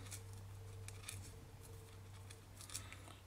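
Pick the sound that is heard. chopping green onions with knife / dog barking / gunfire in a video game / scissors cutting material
scissors cutting material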